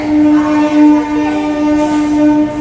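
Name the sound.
train passing by a station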